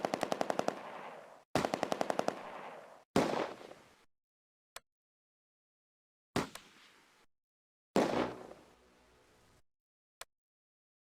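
Heavy gunfire in the Close Combat World War II game around Arnhem: two rapid rattling machine-gun bursts followed by single sharp shots and ringing reports, loud and separated by stretches of silence.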